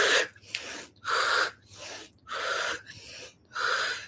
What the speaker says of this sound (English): Breathe in, breathe out and twist.